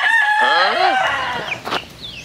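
A rooster crows loudly and close in a backyard chicken farm, one long falling cock-a-doodle-doo, followed by a brief cluck and scattered calls from other chickens.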